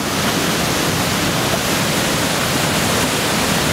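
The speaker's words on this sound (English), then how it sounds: "We are getting closer to the waterfall." Waterfall roaring in a North Carolina gorge, a loud, constant broadband rush of falling water that fills the whole stretch without pause or voices.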